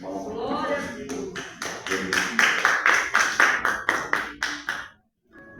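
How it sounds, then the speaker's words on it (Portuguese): A church congregation claps together, a voice over the start, then a rhythmic run of roughly a dozen strong, steady claps that stops abruptly. "Dê uma salva de palmas."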